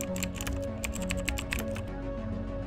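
Fast keystrokes on a computer keyboard, a quick dense run of close clicks that goes on for about two seconds and then stops, heard alone without any voices.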